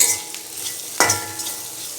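Potatoes with turmeric stirred in a sizzling pan, a spoon scraping through once loudly midway and a few lighter touches over a steady soft frying hiss.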